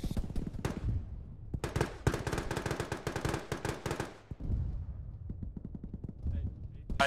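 Gunfire and RPG blasts in a military video game: dense automatic bursts and sharp single shots in rapid strings, loud and close, with heavier booming impacts between volleys and voices shouting under the firing.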